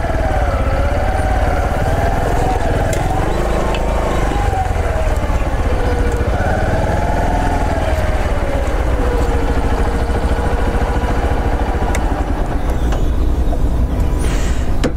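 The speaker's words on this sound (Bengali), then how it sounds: "এটার যে ইঞ্জিনের সাউন্ড খুবই সুন্দর লাগছে, খুব মসৃণ একটা সাউন্ড।" A Bajaj Platina 100 ES motorcycle engine runs steadily and loudly nearby, a smooth continuous drone with a wavering tone throughout, no speech over it.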